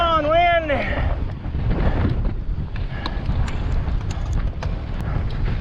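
Strong, steady wind roars across an open mountain slope on Cedar Mountain, a dense low rush filling the whole stretch; a voice calls out briefly at the start.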